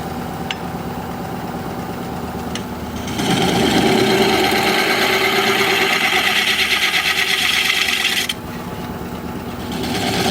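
A motorized grinder whirs steadily, then louder grinding contact rises for several seconds as a negative rake woodturning scraper is sharpened, before dropping back to the motor's hum.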